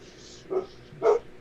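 Two short barks from a dog a little way off, the second louder, over a low background hum, with no talking during the barks.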